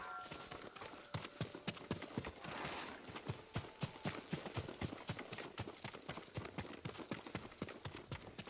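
Horse hooves walking in the video game Ghost of Tsushima, a farm horse at the stables: crisp, close clip-clop steps in a steady repeated rhythm, loud and clear, with no talk over them.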